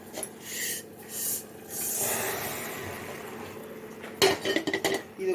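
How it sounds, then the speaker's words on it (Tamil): Roasted moong dal tipped into a pressure cooker holding a little water, heard as scraping and clattering of metal vessels and utensils in short bursts, ending in a louder rattle. "இப்போ இதில் வந்து இந்த வறுத்த பாசிப்பருப்பை நம்ம போட்டுக்கலாம்."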